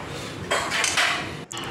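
Ginger, chili and garlic paste with ground cumin being fried in a pan, heard as a few loud scraping, clattering bursts of spatula against metal with short pauses between them.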